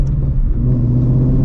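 A Shelby GT350 V8 pulls along a road at night, a close, loud, deep engine drone with a rising tone as it accelerates, alone without voices.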